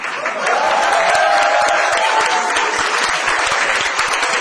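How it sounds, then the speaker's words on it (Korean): Audience applause at a political rally, a dense, steady wash of clapping from a large crowd that holds loud and unbroken throughout. "저 뒤에 계신 분 박수 한번 치세요."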